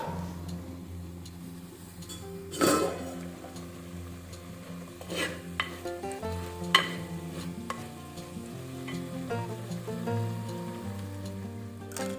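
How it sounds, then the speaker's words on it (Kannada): Capsicum stir-fried in a pan until it colours, giving a steady soft sizzle broken by occasional scraping and stirring clicks, close and fairly quiet throughout. "ದೊಡ್ಡ ಮೆಣಸು ಸ್ವಲ್ಪ ಕೆಂಪಾಗೋ ತನಕ ನೀವು ಹುರಿಬೇಕಾಗುತ್ತೆ"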